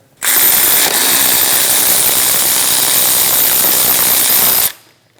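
Loud continuous whir and rattle of an impact power tool removing the crank pulley bolt on a 2005-2009 Subaru Legacy, a single burst of about four and a half seconds cutting off abruptly.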